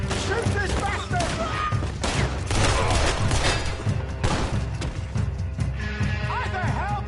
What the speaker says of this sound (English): All right, Arthur. Shoot this bastard!